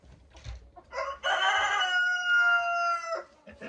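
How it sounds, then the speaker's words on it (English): A rooster crows once, loud and close, a long harmonic call held for about two seconds after a few short clucks, with quiet farmyard background around it. "every time he crows, I just want to yell at him"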